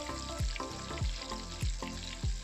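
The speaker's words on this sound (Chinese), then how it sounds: "炸至金黄即可" Banana pieces coated in breadcrumbs deep-fry in hot oil, giving a steady bright sizzle with soft, regular low thumps recurring about every half second throughout.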